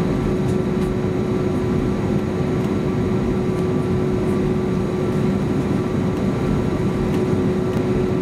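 Inside an ANA airliner cabin at takeoff from Haneda bound for Hiroshima, a steady loud roar of engines with a constant whine persists evenly throughout, with no voices.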